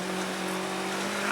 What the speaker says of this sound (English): Well, that's seriously misfiring. He's lucky if he's got a couple of cylinders there.